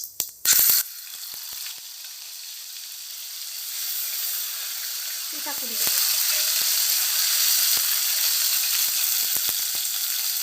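Cumin and ginger-garlic paste sizzle in hot oil for an aubergine masala bhaji, a steady close frying hiss that brightens partway through, with a few clinks of a utensil against the pan.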